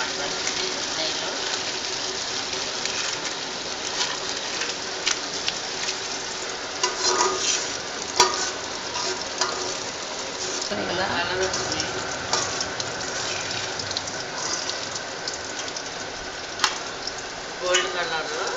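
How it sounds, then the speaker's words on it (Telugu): Cashew nuts fry in ghee in a pan for Andhra-style bagara rice, a steady bubbling sizzle with occasional stirring clinks and scrapes, close up, while someone talks over it. "నెయ్యిలో జీడిపప్పు వేసుకుని వేసుకోవాలన్నమాట నెయ్యిలో"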